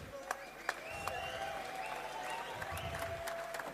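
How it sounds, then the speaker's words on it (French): Faint, distant applause and crowd murmur after a combat-sport bout in Senegal, a soft wash of clapping with a few sharper claps and whistles standing out. "Applaudissez à Red."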